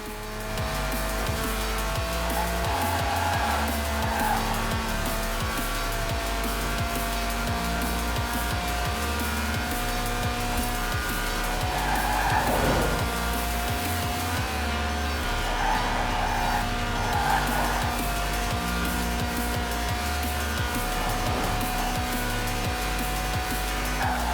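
A high-revving Lotus sports car with a 1.8-litre, 190-horsepower engine that revs to 8,000 RPM screams through repeated gear changes, rising and dropping in pitch, with occasional tire noise, continuous and loud throughout.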